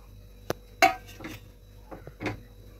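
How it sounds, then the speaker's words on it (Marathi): Grated carrot halwa is stirred in ghee in a pan: a handful of scattered knocks and scrapes of a spoon against the pan, with quiet gaps between them. "त्याच्यासाठी कंटिन्यू त्याला हलवायचं।"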